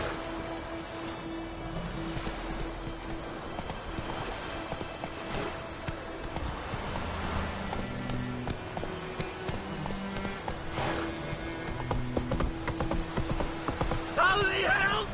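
Roach the horse's hooves clip-clopping in The Witcher 3, a steady rhythmic trot running under game music and a voice talking throughout.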